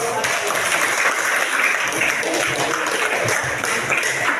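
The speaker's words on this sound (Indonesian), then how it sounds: "berikan tepuk tangan buat Roh" Steady, dense applause from a church or Bible study audience, continuous clapping at an even level throughout without a clear start or end.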